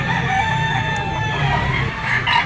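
A rooster, a blue-legged Gilmore Hatch bull stag, crows loudly and close at a pet market, one long drawn-out call with clucking and other fowl behind it.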